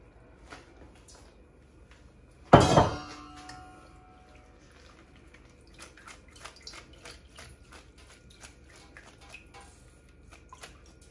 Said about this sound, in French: On va égoutter nos poissons.